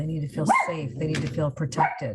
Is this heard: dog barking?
yes